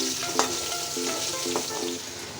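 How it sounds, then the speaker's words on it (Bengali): Potatoes fry in oil in a pan before chicken curry is cooked, a loud, continuous close sizzle with faint spatula clicks and stirring scrapes throughout. "চিকেনের আলুটা ভেজে নিচ্ছি আগে তারপর মশলা দিয়ে কষাবো পেঁয়াজটা ভাজবো"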